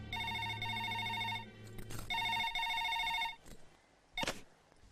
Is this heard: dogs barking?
no